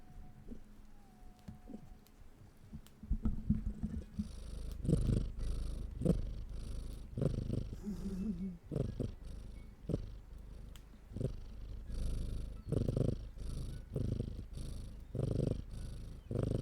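A cat purrs steadily close to the microphone, a low rhythmic rumble that keeps going for over ten seconds and is loudest right up near the mic, with faint room noise before it starts.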